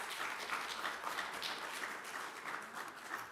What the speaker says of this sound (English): I think the kids keep leading the applause